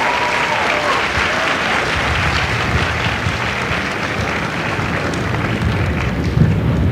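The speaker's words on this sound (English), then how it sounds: "please join me in a well-deserved round of applause for the drill instructors and families of Bravo Company" Audience applause fills a Marine recruit graduation ceremony at MCRD San Diego for drill instructors and families of Bravo Company, a steady, dense wash of clapping that holds loud throughout.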